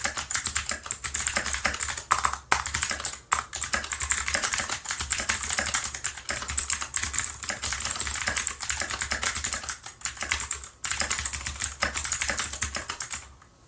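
Rapid, steady typing on a cheap mechanical computer keyboard that has been modded, loud and close, with dense clacking keystrokes and only brief pauses throughout.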